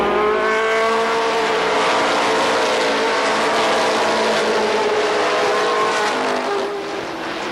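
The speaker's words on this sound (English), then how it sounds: "Ready to go for 35 laps of NASCAR Winston Racing Series late model action." NASCAR Winston Racing Series late model race cars roar around an oval speedway track, a loud, sustained pack of engines with rising and falling pitch as cars pass close, fading slightly at the end.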